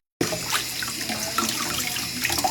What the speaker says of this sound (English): just run it under cold water while you're peeling it